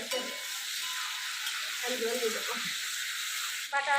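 Chili and ginger sizzle and fry in a pan for a Bengali village-style fish and greens dish, a steady loud hiss with brief stirring scrapes midway and a short voice near the end.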